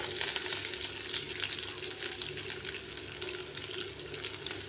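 Small shallots sautéing in hot oil with chana dal and dried red chillies make a quiet, continuous sizzle with faint stirring, close by and without talk.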